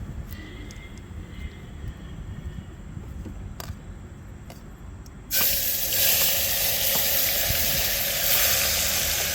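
Spices for a potato dish drop into hot oil and burst into a loud, broadband sizzle partway through, after a quieter stretch of outdoor background noise with faint clinks, and keep hissing steadily to the end.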